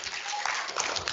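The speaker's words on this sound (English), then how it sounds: "so give her a round of applause" Brief applause from students at a school popular-science symposium, a short burst of clapping filling the room, mixed with faint voices.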